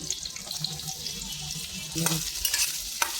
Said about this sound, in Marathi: आपण आता इथं कांदा छान तेलावर परतून घेणार आहोत.